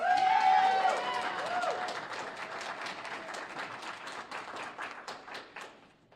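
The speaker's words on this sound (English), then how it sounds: "Please give her another round of applause." Audience applause for a young student speaker at a school voucher protest, a loud burst of clapping and some cheering at first that thins into scattered, fading claps over several seconds.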